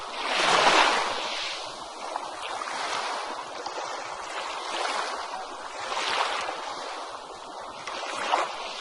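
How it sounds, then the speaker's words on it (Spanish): Ocean waves break and wash ashore in a slow, repeating rhythm, each surge swelling and fading with a soft hiss, moderately faint and heard alone with no voices. "Escuchar las olas puede disminuir la presión arterial y la frecuencia cardíaca."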